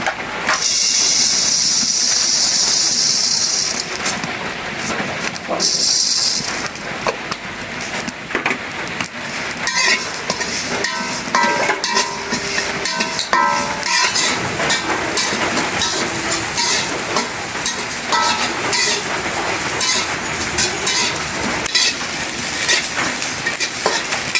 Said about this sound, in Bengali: আমি এই যে পাঁচফোড়নটা ভাইজে নেব